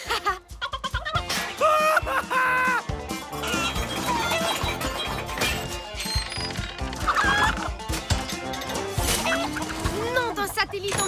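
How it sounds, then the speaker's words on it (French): Cartoon chickens cluck and squawk in busy bursts amid music, crashes and animated sound effects, with characters talking throughout. "Ce n'est plus une, mais 3 poules qu'on a en cavale."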